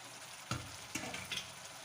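Fried fish heads dropped one by one into hot spiced masala, a few soft thuds and stirring scrapes over a low, steady oil sizzle.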